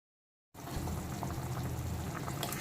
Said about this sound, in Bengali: তো ঝোলটা কিন্তু এখন টকবক করে ফুটতে শুরু করেছে।